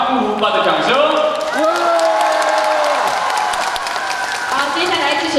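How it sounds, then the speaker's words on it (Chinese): An audience at a stage show in Zhangjiajie, Hunan, China claps and cheers in a dense, sustained burst, while a host talks loudly and with rising pitch over the noise. "好，支持二号憨酷无霸的掌声。"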